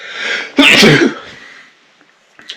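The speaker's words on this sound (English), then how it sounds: "Oh, gotta sneeze." A single loud, close sneeze bursts out after a short breathy inhale, followed by quiet and a faint sniff.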